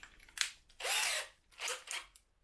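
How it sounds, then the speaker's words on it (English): A hand drill bores into a polyethylene cutting board in three separate bursts of whirring, each one loud and close and with no voices over it. "for this video I'm going to use my hand drill"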